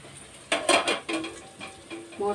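Egg curry being stirred in a pan, a few scraping spoon strokes against the metal over a soft sizzle, short and close, with no one talking.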